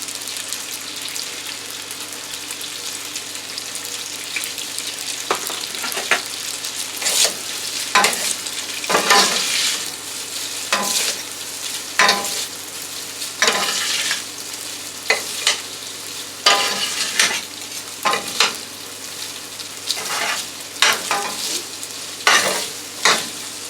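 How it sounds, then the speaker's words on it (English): A bourbon chicken and vegetable stir fry with pasta being stirred in a frying pan: steady sizzling with repeated scraping, clattering strokes of a utensil at an irregular rhythm, close and fairly loud, with no talking. "you see how I'm mixing it up so I can get everything that's in this frying pan on the bottom onto the pasta"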